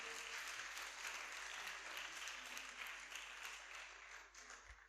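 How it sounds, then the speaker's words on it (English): Sustained applause from an audience at a kindergarten graduation exercise at United Learning Centre Preparatory School, a steady dense crackle of many hands clapping throughout, slightly tapering near the end. "Clap all our students"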